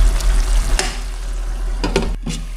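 Fish and a lone shrimp simmer in a pot of sarsiado, giving a steady bubbling sizzle with a few sharp utensil clinks and stirring scrapes close by.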